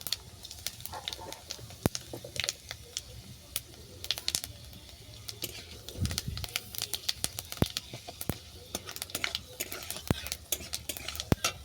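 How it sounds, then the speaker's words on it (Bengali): Dried chillies, bay leaves and five-spice crackle in hot oil, with many quick, irregular pops and clicks over a faint sizzle, close and without talk. "এই তেলের মধ্যে দিলাম শুকনো লঙ্কা ফোড়ন তেজপাতা ফোড়ন আর দিলাম পাঁচ ফোড়ন"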